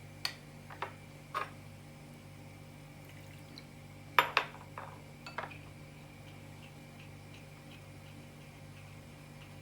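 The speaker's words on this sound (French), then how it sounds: "Je vais encore bien remuer" Cappuccino cream being stirred in a pot, faint scattered clinks and taps of a utensil against the pot, a small cluster near the middle, over a quiet steady hum.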